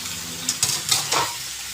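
Stingray frying in a pan with garlic, ginger and onion, a steady sizzle with a few scraping stirs in the middle, close up, and no voices.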